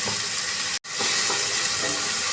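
Tomatoes cook in a pan for home-style matar paneer bhurji, giving a steady, close sizzle and hiss that is broken once by a split-second gap.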